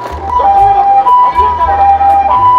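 Japanese ambulance passing on a street, its two-tone siren alternating steadily and loudly over low road and engine rumble, with a spoken loudspeaker announcement mixed in.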